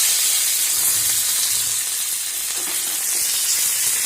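Curry leaves hit hot oil with mustard seeds for tempering, a loud, dense, continuous hissing sizzle that stays steady and close throughout, with no speech.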